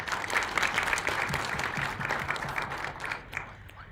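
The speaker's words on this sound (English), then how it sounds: "Let's again give Dr. Palmer a round of applause" An audience at a university health workforce centre launch applauds a speaker, a steady wash of clapping from many hands that fades toward the end.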